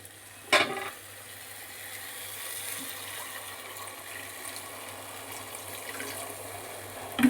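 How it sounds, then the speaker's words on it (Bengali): Water is poured into a pan of potato curry whose spices have been fried down, a steady pouring wash running through the whole stretch after a brief clatter near the start, with no talking. "আবার পরবর্তী রান্নায় ফিরে আসছি এবার দেখো বন্ধুরা আমার মশলার সাথে সব কষানো হয়ে গেছে আলু টালু দিয়ে মশলাটাও আমার ভালোভাবে কষানো হয়ে গেছে এবার আমি জল দিয়ে দিচ্ছি"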